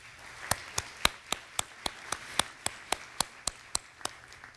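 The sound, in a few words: audience applause at annual meeting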